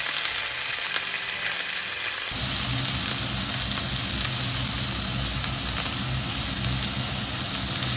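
A small onion goes into a frying pan with boneless chicken, and the already loud, steady sizzle jumps to a fuller, heavier crackle as it lands and keeps going.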